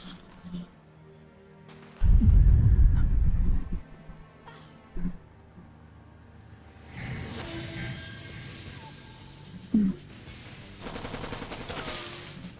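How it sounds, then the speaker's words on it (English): Ammunition explodes on a corpse in Metal Gear Solid 3, a video game: a heavy, booming burst of blasts, then scattered sharp pops and crackles spread over several seconds among faint background noise. "It's like fireworks of a guy whose ammunition's exploding on his corpse."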